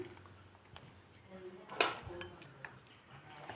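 Quiet clinks and scrapes of a spoon mixing masala sweet corn in a bowl as salt goes in, with one sharper clatter midway and soft talking underneath.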